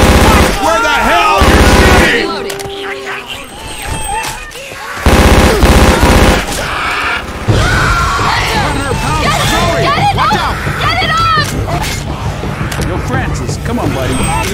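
Rapid automatic gunfire and bursts of shooting from the Left 4 Dead 2 zombie shooter on the I Hate Mountains campaign, loud and dense throughout, with players talking over it.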